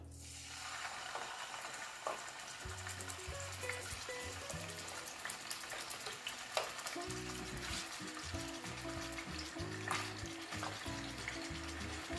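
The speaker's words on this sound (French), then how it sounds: "Voilà, les amis, donc l'huile est chaude. Nous allons mettre la viande." Meat sizzles and fries steadily in about 150 ml of hot oil in a home kitchen, a continuous crackling hiss with bursts of spatter close by, while low background sounds run underneath.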